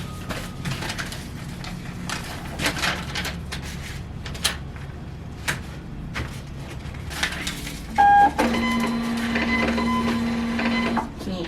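A desktop printer running order labels: handling clicks and rustles, a short beep, then a steady mechanical whir with a sustained hum for several seconds, close by.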